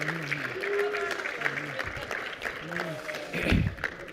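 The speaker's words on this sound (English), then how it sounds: "I assume that applause was for me." Applause from an audience patters steadily under a talking voice.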